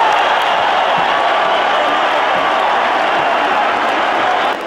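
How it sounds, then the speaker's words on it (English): A boxing arena crowd roars and applauds after the Barrera vs Morales fight, a loud, sustained wash of cheering and clapping with no break. "Both for the fighters deserve a hand of applause."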